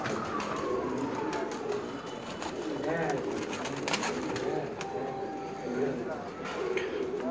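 Pigeons at a pigeon keeper's loft in Lilyani coo in a dense, continuous chorus close by, while someone speaks over the birds.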